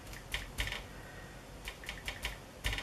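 Keys tapped on a computer keyboard in small clusters of quick clicks with pauses between, fairly quiet and close, with no talking.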